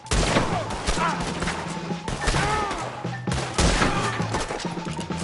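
Gunfire in the Western video game Red Dead Redemption 2: a loud, dense fusillade of shots and crashes that repeats in bursts, with voices shouting over it.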